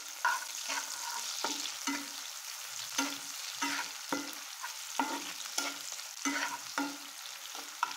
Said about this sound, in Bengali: এবার আমি গোটা পেঁয়াজ কুচি দিয়ে দিচ্ছি